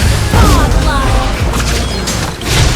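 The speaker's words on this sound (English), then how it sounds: "Your team destroyed a turret." A turret is destroyed in the Mobile Legends mobile game, a loud, dense crash and rumbling boom with mechanical clatter that fills the whole moment, layered with game effects and an announcer-style voice.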